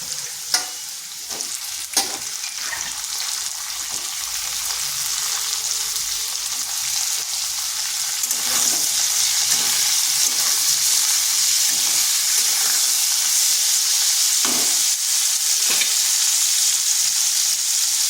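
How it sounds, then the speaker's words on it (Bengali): Potato pieces and pointed gourd fry in oil in a pan, a loud, steady sizzle and hiss with a few clinks of stirring, close and continuous, no speech. "এবার পটলগুলোকেও কিছুক্ষণ ভেজে নেব।"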